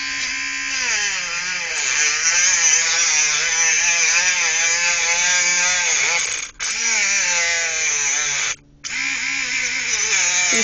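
A Dremel rotary tool with a cutoff wheel grinds into a steel cable bike lock clamped in a vise, producing a loud, steady high-pitched whine with wavering pitch, briefly dropping out twice.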